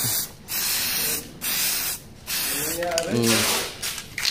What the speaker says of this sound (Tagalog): O, next, spray na natin o.